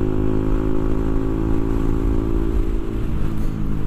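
A motorcycle engine rumbles loudly and steadily close by, holding a deep throbbing idle with slight rises in revs and a brief dip near the end, with no voices.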